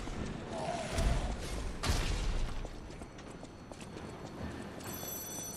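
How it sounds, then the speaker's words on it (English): A telephone rings with a bright, repeating bell tone near the end of a Lies of P gameplay moment, set against a steady game-world ambience with clattering hoof-like steps and a few faint effects. "I sure hope somebody answers that phone."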